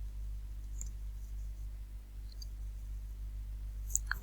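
Light keyboard typing while Java code is entered on a computer: sparse, faint clicks near the end over a steady low electrical hum, with no voice.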